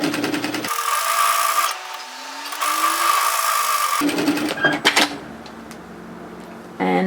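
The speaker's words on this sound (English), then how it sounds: "So I'm just sewing through my overlocking line just to hide the line of stitching" Sewing machine stitching over an overlocked seam on a sweatshirt hoodie dress, a steady close whirr for several seconds followed by quieter clicks and handling sounds.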